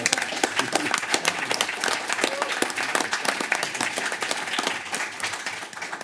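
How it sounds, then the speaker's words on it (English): Crowd applause at an anniversary celebration for an academic program, with bright, crisp hand claps, energetic and sustained, and some murmuring voices underneath. "I'd like to have a round of applause for Kyle Renner."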